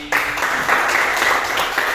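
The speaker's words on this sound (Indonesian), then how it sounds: "Tepuk tangan buat Selvi." Students in a classroom break into a short burst of clapping for a classmate, starting abruptly and staying loud and close for about two seconds.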